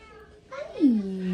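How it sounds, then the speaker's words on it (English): A cat gives a single drawn-out meow, rising then falling, close and clear in a garden setting, with a faint voice just before it. "Cat's saying hello."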